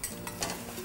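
Pumpkin and potato chunks are stirred in a pot of Thai fish organ sour soup, a short run of wet scraping and sloshing with small clinks.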